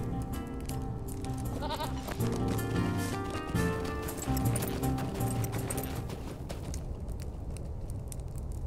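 Goat in the online game Lord of the Rings Online, bleating in several wavering calls over soft hoof clip-clops and game ambience, fairly quiet with no talk.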